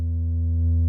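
A steady, pure sine tone from oscillator B of an Instruo Cš-L synthesizer module holds unchanging for under a second, clean and fairly loud with no other sounds.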